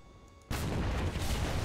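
Tank artillery fire in War Thunder's modern-tank combat with a T-90: after a brief quiet moment, a sudden loud blast hits and rolls into a sustained heavy rumble that carries through to the end.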